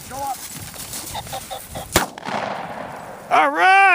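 A shotgun blast while bird hunting with dogs, one sharp loud crack amid rustling field noise, followed by a bird's squawking call near the end.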